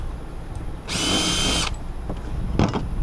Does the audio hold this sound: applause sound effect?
no